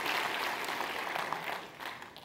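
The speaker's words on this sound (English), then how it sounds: "Everybody, give them a round of applause." Brief, steady audience applause fills a room during an emotional intelligence talk, moderately loud and unbroken.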